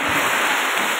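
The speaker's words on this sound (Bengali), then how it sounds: "বাইরে দেখো বৃষ্টি হচ্ছে কি জোরে" Heavy rain falling outdoors during a Rath Yatra at the ISKCON temple in Mayapur, a dense, loud, steady hiss filling the short moment with no break.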